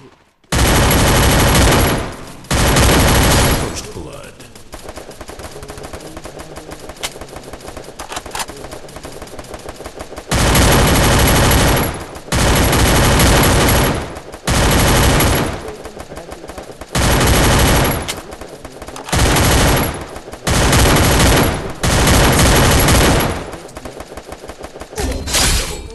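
Gunfire in the video game Free Fire, long loud bursts of automatic fire repeating in rapid clusters with short pauses between, very close and dominant throughout.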